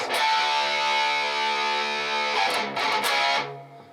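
Palm-muted distorted electric guitar power chords in an 80s rock riff ring out loud and saturated, shifting between a couple of chords before fading.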